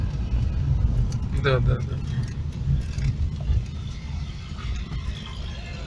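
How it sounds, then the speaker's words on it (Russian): Inside a car driving through the village of Kopenki in Oryol region, a steady low road and engine rumble continues throughout, with a faint jangle and one brief spoken word. "Едем по деревне Копенки."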